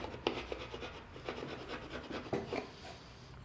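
A wood chisel cuts into the edge of a decorative wooden border, making quiet, repeated scraping and rasping strokes in an irregular rhythm, heard up close.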